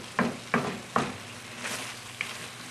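Eggplant caponata with olives gets stirred and folded in a skillet: three distinct spoon scrapes and clunks, then softer shuffling strokes over a low steady sizzle, close and with no voices.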